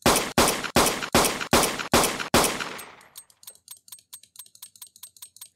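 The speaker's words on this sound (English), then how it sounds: "we can hear this empty magazine sound" A weapon in a Unity first-person shooter game fires a loud, rapid burst of automatic shots, then runs dry into a quick string of fainter, evenly spaced empty-magazine clicks.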